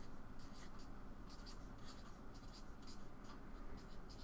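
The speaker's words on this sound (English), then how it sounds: "I'm just gonna write wall destroy, or building wall" A pen scratching across paper while notes are jotted during board game design, with a steady run of short scribbling strokes close by and no talk.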